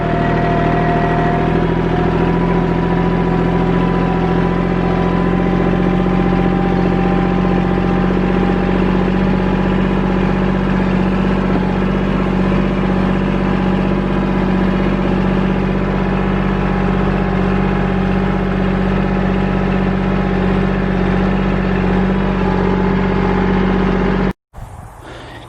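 A vehicle engine drones steadily and loud while driving around a homestead property, a constant low hum with no talking, ending in an abrupt cut near the close.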